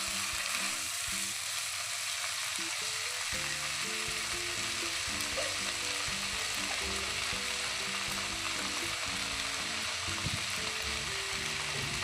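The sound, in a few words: chicken pieces frying in a pan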